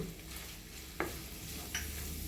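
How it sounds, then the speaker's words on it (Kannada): Paneer fries in butter with masala as a spoon stirs the pan, a soft steady sizzle broken by two sharp scraping clicks, close and fairly quiet. "ಮಸಾಲೆ ಹಾಕಿ ಕೈ ಆಡ್ಸ್ಕೊತೀನಿ ರೀ"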